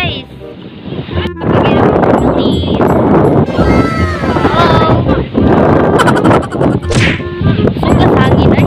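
Strong wind at the sea buffets the microphone with loud, gusty roaring while people talk over it.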